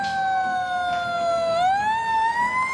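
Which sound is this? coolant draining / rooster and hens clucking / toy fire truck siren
toy fire truck siren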